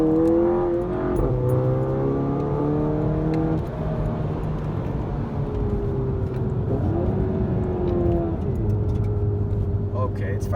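A VW GTI MK7 with a downpipe and Cobb Stage 1 tune revs up and settles in a low grumbling idle, heard close and loud beneath ongoing talk.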